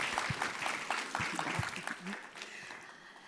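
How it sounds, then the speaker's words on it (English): Scattered, moderate clapping from a summit audience, individual claps audible and thinning out toward the end, with some voices mixed in. "Please give Rachel a round of applause."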